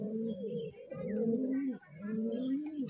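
Domestic pigeons cooing close by in soft, repeated throaty phrases that rise and fall in a steady rhythm, with a brief thin chirp from another bird partway through.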